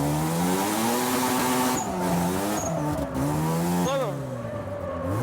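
A drift car's engine revs hard and rises and falls in pitch through repeated gear and throttle changes, with tires squealing, loud and close, as someone briefly speaks over it.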